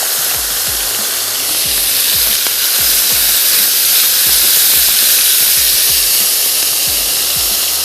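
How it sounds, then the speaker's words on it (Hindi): Sauce-coated chicken sizzles loudly on a very hot grill pan, a dense continuous frying hiss with steam and occasional pops and low thumps of the meat being spread out, close and with no voice. "ग्रिल पैन हमारा ज़बरदस्त सा गर्म हो गया है, और अब मैं इसमें शामिल करने जा रही हूँ ये हमारी चिकन"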